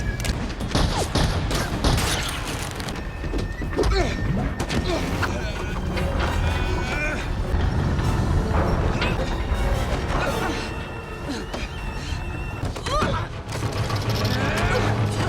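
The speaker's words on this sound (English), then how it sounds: "gunfire pushes the assassin back" Dense, chaotic bursts of gunfire and crashing impacts over a dramatic musical score, loud and continuous throughout.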